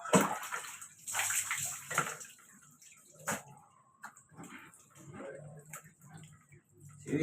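Water sloshes and splashes while two dogs are bathed on a hot day, in uneven bursts of running and splashing water with faint ticking sounds and brief murmurs of talk between them.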